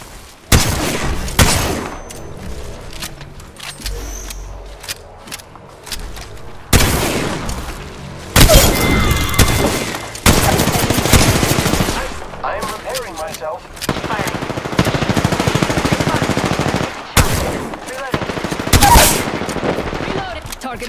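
Rapid bursts of automatic gunfire with booming shots in Apex Legends, repeated volleys of varying loudness across the stretch, close and dense, with a few short pauses between exchanges.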